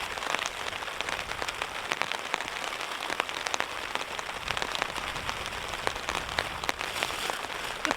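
Heavy rain drums steadily on a tent at a mountaintop campsite, a dense, loud patter of countless close drops with sharper individual taps scattered throughout and no break.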